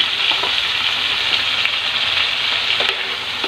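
Chopped chayote, carrots and potatoes hit hot oil in a pan, giving a loud steady sizzle with faint stirring scrapes throughout and no voices.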